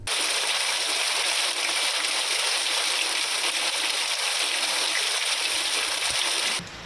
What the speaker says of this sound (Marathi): जिल्ह्यात अनेक ठिकाणी पावसाच्या सरी कोसळत आहेत